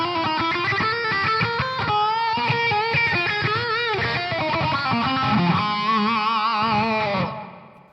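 Electric guitar played through an EVH signature overdrive pedal with the gain around 1 o'clock and the boost engaged, a loud, saturated run of notes and chords sustaining steadily for about seven seconds before fading out, with no talking.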